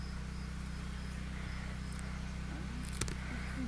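Honey bees buzz around a hive frame lifted out during beekeeping, a steady low hum running continuously under faint outdoor noise, with a brief sharper sound near the end.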